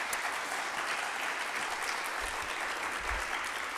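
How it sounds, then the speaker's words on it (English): An audience at a community housing and investment event breaks into steady applause, a dense, even patter of many hands at moderate distance, with no talking. "let's give another round of applause to them"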